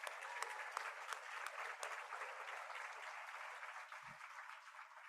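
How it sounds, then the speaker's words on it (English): Audience applause at the 2022 AC Vision afternoon event, a steady wash of many hands clapping that fills the whole stretch at an even, moderate level. "Let's get a round of applause for that video."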